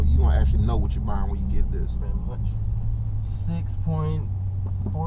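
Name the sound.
Dodge Challenger 392 Shaker 6.4-liter V8 engine running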